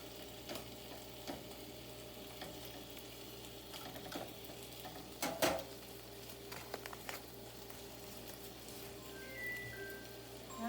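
Bacon frying in a pan: a faint, steady sizzle with scattered small pops and crackles, heard alone without talk.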